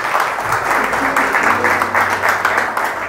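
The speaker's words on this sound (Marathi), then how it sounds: "एकदा जोरदार टाळ्या वाजवू शकता तुम्ही" Church congregation applauding loudly during a Marathi sermon, a steady dense wash of clapping that fills the whole stretch, with faint murmurs beneath.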